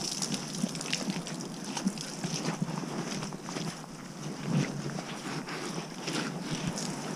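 A pressure washer sprays a steady broad hiss of water as it rinses a 2019 dirt bike outdoors, loud and continuous, with wind buffeting the microphone.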